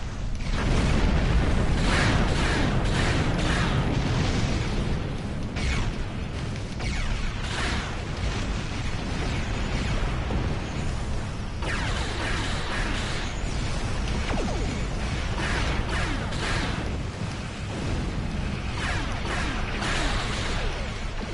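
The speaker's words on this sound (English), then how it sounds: "That was a glorious explosion!" Explosions rumble and crash during a starship battle in Star Trek Online, a continuous heavy roar broken by repeated sharp bursts and booms across the whole stretch of combat.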